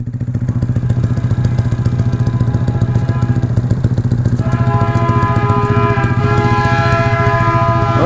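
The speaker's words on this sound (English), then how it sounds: "We're getting trapped by the train." A loud passing train rumbles close by with a steady rhythmic clatter, and a sustained horn blast joins partway through.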